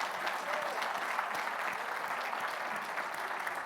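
A conference room audience claps steadily at moderate volume for Allison Smith, with even, sustained applause and a faint murmur of crowd beneath it.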